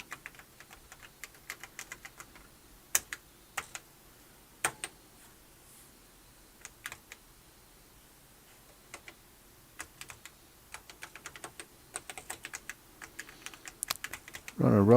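Keys clack on an Apple IIe computer keyboard in irregular taps and short bursts, some louder single presses among quieter ones, close and crisp over a faint background hum, with a louder burst of sound at the very end.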